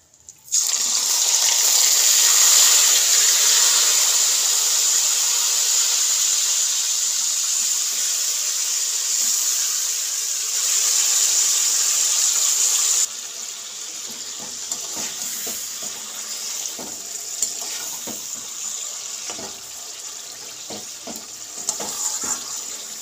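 Mutton, marinated for two hours, hits hot oil with fried whole spices for biryani. A loud, steady sizzling hiss fills the pan, then eases to a softer crackle with faint clinks partway through.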